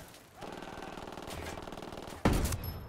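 Rapid bursts of automatic gunfire from Ghost Recon Wildlands rattle continuously for the whole stretch, capped near the end by one loud, sharp sniper shot that stands out above the fire.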